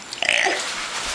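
A girl lets out a short burp, fairly close and moderately loud, followed by a brief quieter tail.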